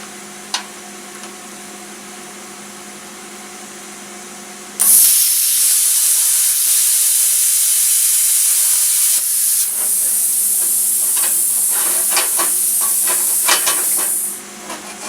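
Primeweld CT-520D plasma cutter slicing through metal: after a quiet hum, a loud steady hiss bursts on and holds for about ten seconds with crackling pops, then cuts off.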